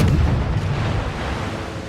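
Heavy naval gunfire in a World of Warships sea battle: a deep, loud, sustained booming rumble that rolls and slowly fades over the whole stretch, with no voices.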